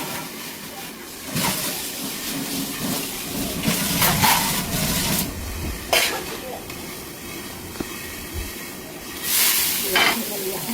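Roasted eggplant gives off steam in a pan on the stove, a steady close hiss that swells in bursts, with a few light clatters.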